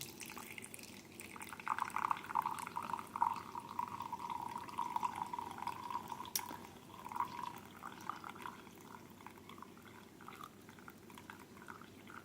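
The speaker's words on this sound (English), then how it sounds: "now our coffee's ready to pour" Freshly brewed French press coffee pours from the carafe spout into a cup, a soft steady trickle of liquid running for several seconds before tapering off, quiet and close with no talking.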